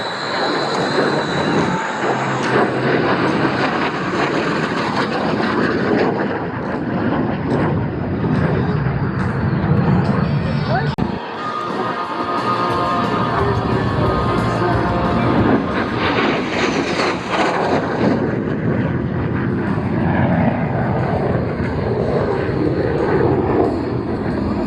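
A fixed-wing airplane makes a high-speed pass at an air show, its engine roar building loudly, dipping briefly as it passes, then surging again and fading slowly over a long stretch.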